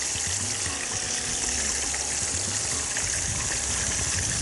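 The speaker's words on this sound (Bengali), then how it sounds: "মাছটা ভাজা হতে থাক।" Fish frying in a pan in a TV cooking-show kitchen gives a steady, loud, close sizzle and crackle that runs without a break, with a low background murmur underneath.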